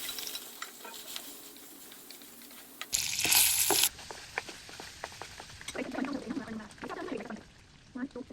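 Sisig with garlic, onion and chili frying in a hot pan, a steady close sizzle with a loud hissing burst near the middle, then stirring and scraping clatter under a voice.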